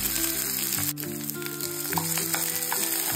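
Soaked sabudana pearls sizzling and frying in a hot pan, a continuous close crackle with a stir partway through, alone without voices.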